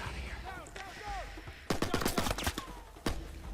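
Gunfire rattles in bursts as bullets chew into a log in Uncharted 4, sharp cracks and impacts clustering midway and again near the end, mixed with game effects and no talking.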